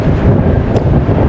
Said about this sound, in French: Beaucoup de vent. Ouais, Il y a du vent, j'espère qu'on entendra un peu.